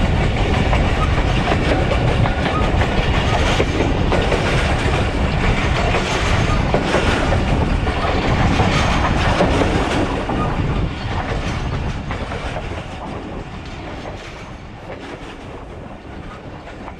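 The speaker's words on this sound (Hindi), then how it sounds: "जब ट्रेन की ट्रैक साउंड आ रही हो तो बीच में नहीं बोलते।" Thal Express passenger train rolling along the track between Rawalpindi and Multan, a loud steady rumble with rhythmic clickety-clack of wheels over rail joints, easing slightly quieter toward the end, with no voices.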